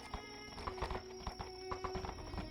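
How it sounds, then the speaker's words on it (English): Horses clip-clopping and whinnying as they ride off in a fantasy video game, steady layered hoofbeats with a neigh, mixed with game music and ambience. "So the horses ride off in the other direction."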